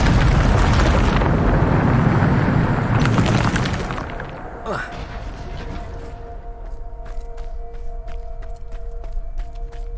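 Bombarda blasting spell explosion in the Hogwarts Legacy video game, a loud rumbling boom with debris crackle that fades out, leaving scattered small clicks and a ringing tone.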